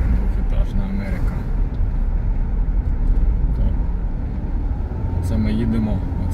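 A car drives along roads in America with a steady, loud low rumble of engine and tyres heard from inside the cabin, while a voice talks over it throughout.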